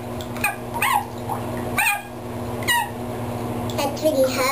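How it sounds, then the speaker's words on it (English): A puppy gives several short, high yelping barks at irregular intervals, fairly close, with someone talking in between and over the steady background hum. "It was a puppy barking."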